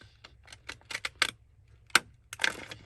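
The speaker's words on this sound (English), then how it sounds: "My vintage lace edge scissors here." Vintage lace edge scissors snip through paper in a series of short, crisp cuts with irregular pauses, close and fairly quiet, with a louder sharp snip near the end and no voices.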